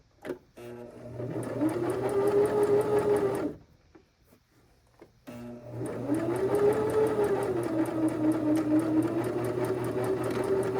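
A sewing machine stitches the inseam of small marionette pants, whirring steadily at close range in two long runs separated by a short pause, with no voices.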